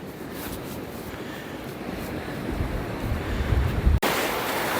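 Sea waves washing onto a white-sand Sardinian beach with turquoise water on a windy day: continuous broadband surf wash that swells louder toward the end, mixed with gusty wind noise on the microphone and no speech.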